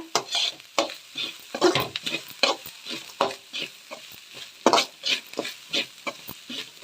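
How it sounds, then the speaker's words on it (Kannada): Grated coconut fries in oil in a pan, a soft sizzle broken by frequent scraping stirs of a spoon or spatula, fairly close and rhythmic, with no talking. "ನಾನು ಎಣ್ಣೆಲಿ ತೆಂಗಿನಕಾಯಿನ ಹುರಿತೀನಿ ನೋಡಿ"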